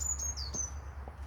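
A robin sings in an allotment garden, a short phrase of thin, high warbling notes at moderate distance over a low steady background hum.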